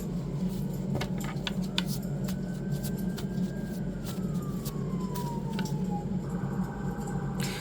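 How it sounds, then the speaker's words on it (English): A faint distant siren wails slowly up and down, heard over a steady low background hum with scattered ticks and knocks, no talking. "the sirens just went off"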